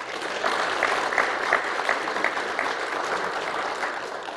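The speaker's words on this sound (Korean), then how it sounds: "영광의 박수 돌립니다." A crowd at a church leaders' prayer breakfast claps steadily, a dense wash of many hands that holds at an even level throughout.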